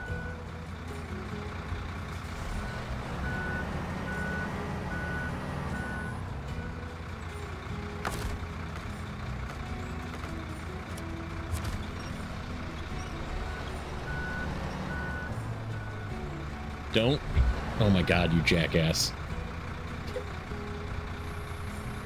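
A Fleetstar truck in the SnowRunner video game rumbles steadily as it reverses and drives, its engine drone loud and continuous, with a burst of clunks and banging near the end as a man briefly exclaims.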